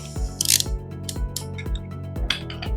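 Packaging being handled while a ComMarker B6 fiber laser engraver is unboxed, with close rustling, scraping and sharp crinkles at an uneven rhythm.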